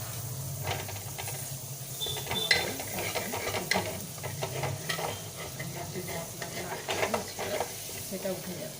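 Chicken kebab fries in butter in a wok with a soft, steady sizzle, joined by scraping and clinking of a utensil stirring against the metal.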